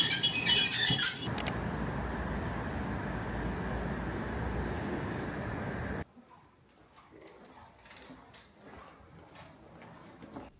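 A Nagasaki tram rolls along its tracks with a high, shrill wheel squeal at the start, then a steady rumbling ride that suddenly drops to quiet, with faint clatter and bumps afterward.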